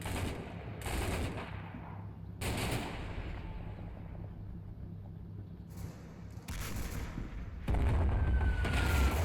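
Marines fire rifles and machine guns in the CMSF2 combat game, sharp bursts and single shots popping at a distance with pauses between, then a heavier, louder low rumble near the end.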